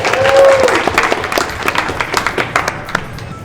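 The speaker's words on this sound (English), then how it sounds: "Let's hear it for Jordan and Tiffany." Audience applause at an office couples gameshow held in a jewelry store in a shopping mall, a burst of steady clapping from a small crowd that starts strong and gradually thins out over a few seconds.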